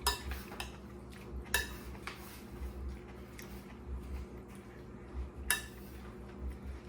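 A spoon used for making Spanish salsa is set down on a kitchen counter, giving a few sharp, close clinks and taps at uneven intervals over a steady low background hum.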